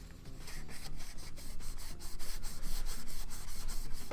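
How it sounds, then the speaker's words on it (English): Sandpaper worked vigorously over a Nerf MA37 blaster, producing fast repeated rasping strokes in a quick regular rhythm that grow slightly louder, close and alone without speech. "I'm going at this like crazy with the sandpaper in hopes that it's going to be like super smooth."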